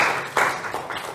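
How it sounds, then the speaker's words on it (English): An audience at a science talk about the QEYSSat space mission applauds the speaker: a dense, steady wash of clapping with small swells, heard without any speech. "a big round of applause for Dr."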